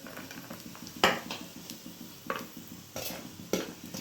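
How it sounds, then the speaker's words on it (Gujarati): Green chillies frying in oil left from roasting peanuts for farali suki bhaji crackle and sizzle under repeated clinks and scrapes of a spoon stirring in the pan, no talking. "આમાં જ હું મરચાં તળી લઉં છું."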